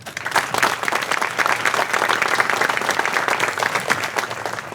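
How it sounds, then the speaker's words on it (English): Dense, steady applause from a large crowd at a chamber of commerce installation and awards banquet, loud and continuous for several seconds with no speech over it. "everyone give yourself a warm round of applause"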